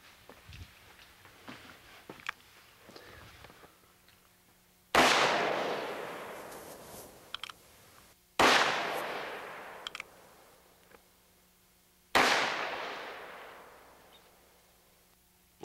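Bullets fired through laminated windshield-type glass: three sharp, loud bangs ring out several seconds apart, each decaying with a brief reverberant tail, with faint scattered clicks and taps in between.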